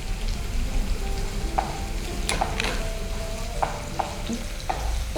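Ginger paste frying in a pan with chicken, garlic paste and egg yolk: a steady sizzle with a few sharp spatula scrapes and clicks, moderately close and heard alone.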